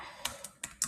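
Four sharp computer-keyboard keystrokes ring out close and fairly quiet, spaced unevenly, with no talking over them.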